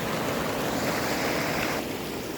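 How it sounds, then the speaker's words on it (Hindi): Stream water flowing and falling over stones beside a waterfall, a steady broadband rush that holds nearly constant throughout, loud and close, with no speech. "यही पानी जो है जा कर के पत्थर के ऊपर से गिर रहा है जो आगे झरने का निर्माण करती है"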